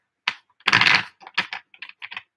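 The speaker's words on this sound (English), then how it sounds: "I'm just going to give it one more shuffle" Tarot cards being shuffled by hand, giving a burst of papery riffling followed by several short, crisp flicks and taps, close and fairly loud with no talking.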